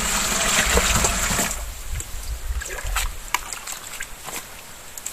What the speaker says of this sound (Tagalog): Fresh water din po yan.